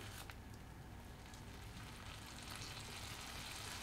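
Water poured into a pan of frying shrimp masala, Bengali style, producing a soft, continuous hiss and sizzle, faint and close with no talk.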